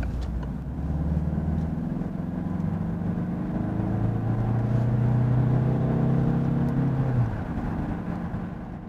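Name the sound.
Peugeot HYbrid4 diesel hybrid car accelerating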